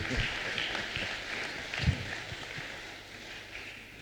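A church congregation applauding during a sermon, a steady wash of fairly faint clapping with a few louder claps, no voices standing out.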